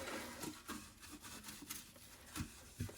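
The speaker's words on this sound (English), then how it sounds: "I'm going to give this a good wiping with the soft side of the sponge" Soft sponge rubbing against a stainless steel gravity water filter, quiet repeated scrubbing strokes with a rhythmic swishing texture, close and faint, without speech.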